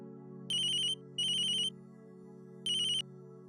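A telephone ringtone sounds in three electronic bursts with a steady tone underneath, from a Hindi TV drama scene.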